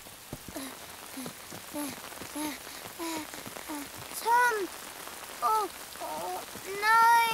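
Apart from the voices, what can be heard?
rain falling in Bing cartoon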